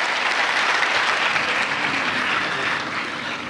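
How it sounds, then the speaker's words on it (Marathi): Loud, sustained applause from a large audience welcoming the district collector, dense clapping that holds steady and eases off slightly at the end. "सगळ्यांनी जिल्हाधिकारी महोदयांचं आपण टाळ्या वाजवून स्वागत करूया"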